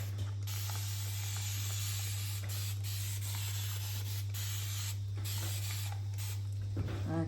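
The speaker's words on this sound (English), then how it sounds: "I might just give this board just a little bit of a spray to start with" Short hissing bursts from a spray bottle misting water onto an Ampersand Gessobord, heard close over a constant low electrical hum.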